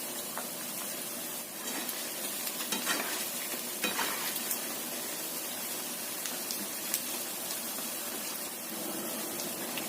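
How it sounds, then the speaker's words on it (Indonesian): Food sizzles and crackles in hot oil in a wok while pieces are stirred and turned over, a continuous frying hiss broken by scraping clatters from the utensil, with no talking. "Goreng sampai kuning keemasan, semuanya wajan aja gorengnya."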